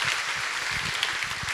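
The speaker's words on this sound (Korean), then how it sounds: "출산 장려금 드릴 때 박수로 축하해 주시기 바랍니다" Church congregation clapping during a Sunday worship service in Daegu to congratulate recipients of a childbirth encouragement grant; steady, moderately distant applause throughout.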